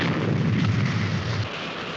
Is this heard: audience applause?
no